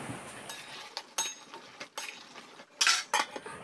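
A lid goes onto a cooking pan of bottle gourd and prawn curry, several close metallic clinks and clatters in an uneven sequence, with the loudest knocks near the end and quiet gaps between.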